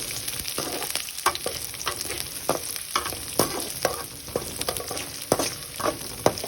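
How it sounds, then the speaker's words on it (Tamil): Ingredients for lemon rice sautéing in a pan, a steady sizzle with repeated sharp scrapes and stirs of a spatula, no voices. "வதக்கவும்."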